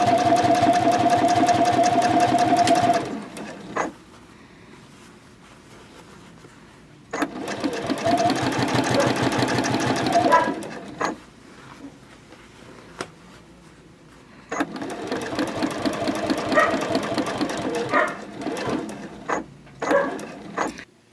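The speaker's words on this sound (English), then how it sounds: "And I'm going to stitch forward a few stitches and then backwards a few stitches. And then I'll top stitch straight across." A sewing machine runs in three separate bursts, stitching forward and backward and then top stitching straight across a boxy bag, its close whirring motor alternating with short quiet pauses.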